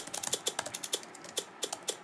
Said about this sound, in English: there's this typewriter mode, and you can enable the keyboard sound, which feels really nice